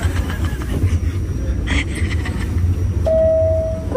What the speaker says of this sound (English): How long this train ride is?